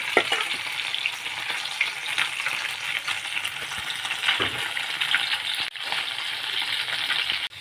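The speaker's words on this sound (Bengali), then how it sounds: "দেখো আমার মাছটা কত সুন্দর লাল লাল ভাজা হয়ে যাচ্ছে দেখো" Snakehead fish fry in hot oil in a pan, a dense continuous sizzle close up with scattered small pops and clinks throughout, no voices.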